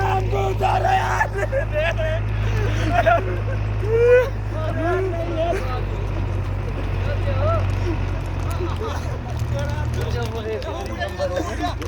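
Horse hooves clip-clop during a mare ride in Kashmir, a steady rhythmic clatter running under chattering voices and crowd babble over a low constant hum.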